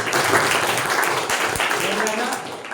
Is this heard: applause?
yes